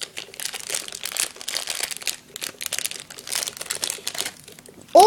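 Plastic bag around a small pull-back Mario kart toy from a Kinder Surprise egg crinkled and rustled as it is opened, close and busy with uneven bursts, ending in a brief squeaky sound.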